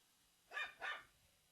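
A dog gives two quick barks in succession, fairly close and clear against a quiet indoor background, with no talk over them.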